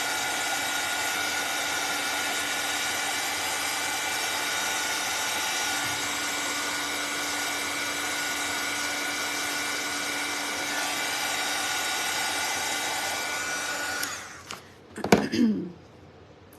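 A handheld dryer blows over painted craft pieces for a Valentine gnome shelf sitter, a steady close-up whooshing hum that runs for about fourteen seconds before cutting off, followed by brief handling clatter.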